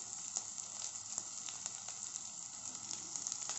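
Green chilies frying in a pan, making a steady, even sizzle with small crackles throughout, quiet and close, with no voices.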